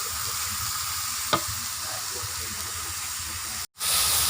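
Shrimp fried rice sits in a pan with a splash of soup, giving a continuous soft hiss and low simmering sizzle, with one faint tap partway through and a brief dropout near the end.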